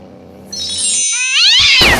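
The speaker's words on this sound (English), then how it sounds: "Damn cat thinks that he owns the place." A cat meows loudly and close by, one drawn-out rising then falling cry after a low background hum, ending in a sharp burst.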